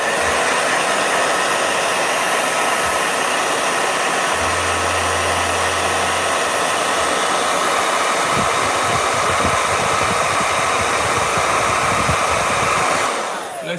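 A blow dryer runs steadily at close range, a loud continuous airy whir with a constant motor hum, holding the same pitch throughout before cutting off abruptly at the end.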